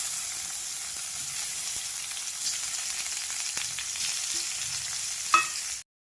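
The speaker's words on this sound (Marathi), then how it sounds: "तुपावरती छान आपल्याला हा परतून घ्यायचा आहे" Paneer cubes, about 200 grams, frying in hot ghee for a hotel-style matar paneer, giving a steady, close sizzle throughout with a brief louder crackle near the end before it cuts off.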